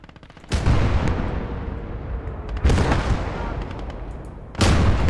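Tank shells and gunfire in the World War II game Kampfgruppe: three heavy, loud blasts spaced about two seconds apart, each leaving a long rumbling decay.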